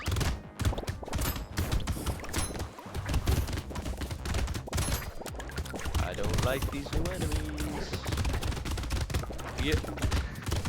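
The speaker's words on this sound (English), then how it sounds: "The explosions though." Rapid bursts of explosions and gunfire-like blasts from landmines in the video game Brotato, dense and continuous under a voice talking over the game.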